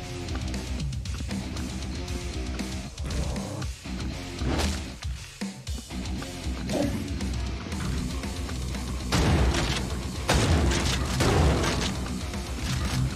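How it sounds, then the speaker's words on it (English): Enemies burst in repeated booming explosions in the game Hellbound, heavy blasts and pops layered over dense, loud action noise with no pause throughout. "Those things aren't too terrifying whenever they explode."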